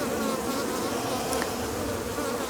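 Dense, steady buzzing of many honey bees in an opened hive, close and continuous with no pauses or voices.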